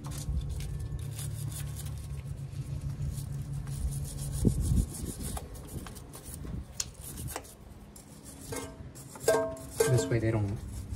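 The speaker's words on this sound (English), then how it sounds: "I am gonna clean these threads. Make sure they're nice and good." Rusty bolt threads on a 2006–2012 Mitsubishi Eclipse 2.4L exhaust manifold being cleaned, heard as steady scraping and rubbing strokes with a few sharper knocks, close by under a low background hum.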